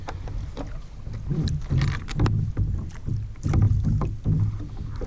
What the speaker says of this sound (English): That paddle bump in the boat is going to get annoying